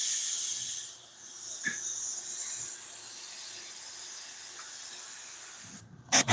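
Airbrush spraying paint with a steady close hiss that dips and sputters irregularly, ending in a few brief sharper bursts, with no talking.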